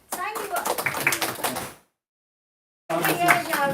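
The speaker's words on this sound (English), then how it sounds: "kids, how about you give a big round of applause for your parents" Parents and children at a middle school public speaking event applaud in a busy burst of claps with voices mixed in, cut off by a sudden silence before the clapping resumes.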